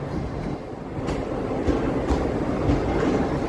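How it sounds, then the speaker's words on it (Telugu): A continuous rumbling roar of the Ratnachal Superfast Express leaving a station platform on the Vijayawada–Visakhapatnam route, with faint rhythmic clicks of wheels over rail joints, loud and near, no voices. "విజయవాడ విశాఖపట్నం రత్నాచల్ సూపర్ ఫాస్ట్ ట్రైన్కి సిగ్నల్ వచ్చేసింది ఆ ట్రైన్ వెళ్ళిపోతుంది"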